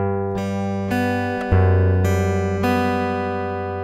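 Fingerstyle acoustic guitar picks a song's pattern slowly without a metronome, with a few sustained plucked chords ringing one into the next, close and clear with no talking.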